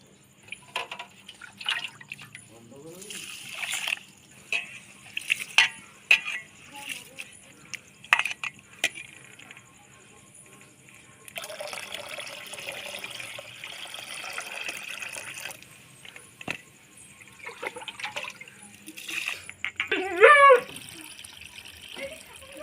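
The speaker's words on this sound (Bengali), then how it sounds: "আতপ চালটা ধুয়ে নেব" Atap rice being washed in a kitchen: intermittent splashes and water sloshing, a stretch of running tap water, with scattered clinks and handling noises, fairly quiet and close.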